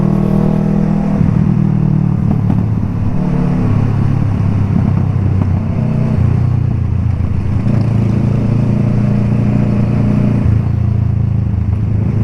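Kawasaki Ninja RR 150 two-stroke motorcycle engine droning loudly and steadily while riding on an empty road, with revving rises and falls throughout, close and continuous with no talk.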